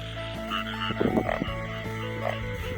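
Frogs croaking on the first rainy night of the season in the Thung Kula Ronghai plains of northeastern Thailand, with loud continuous croaking from mating frogs nearby and more calls behind it.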